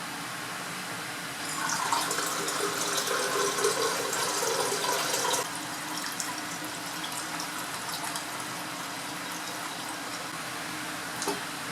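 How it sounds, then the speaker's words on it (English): Water drains from a separatory funnel into a laboratory beaker, a steady trickling pour of liquid lasting several seconds up close, easing to a softer flow and a faint drip. "then I can drain off the water layer into the beaker"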